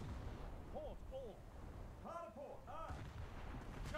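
Naval gunfire in the War Thunder video game aboard the cruiser USS Newport News: low, muffled booms and a continuous rumble, faint overall, with brief tonal whines over the top.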